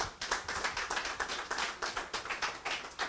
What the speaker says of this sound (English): So happy claps for him.